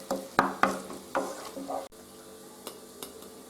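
Onions frying in a pan with a teaspoon of mild chili powder added, a steady close sizzle broken by several sharp spoon-and-pan scrapes and clinks as the mixture is stirred.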